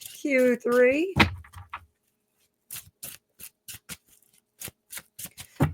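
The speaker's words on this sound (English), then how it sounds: "Giving these a good shuffle." A deck of tarot cards is shuffled by hand, giving a series of short, sharp riffling snaps and slaps in irregular rhythm after a brief spoken phrase at the start.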